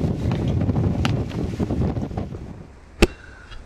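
Wind gusting through windy Central Park, loud low rumbling buffets against the microphone for most of the stretch, easing off near the end, with a sharp click near the close.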